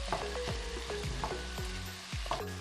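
Tomatoes cooking in a pan for Kenyan irio give a steady, soft sizzle and gentle frying crackle, quiet and close.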